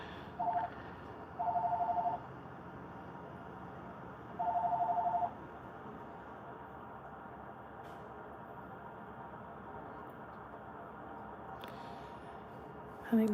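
Telephone tones sound in short, evenly spaced bursts, a ring or dialing pattern repeating three times near the start over a steady low hum, then fading to quiet background noise.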